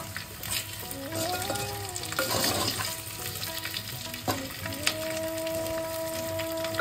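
Boiled potatoes fry in spiced oil in a clay pot for aloo dum, a steady close sizzle with stirring scrapes and clatter throughout, plus a tonal hum in the background.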